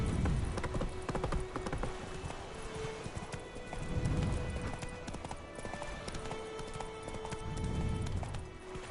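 A horse's hooves clip-clopping in a steady galloping rhythm in The Witcher 3 video game, with occasional snorts over ambient game sound.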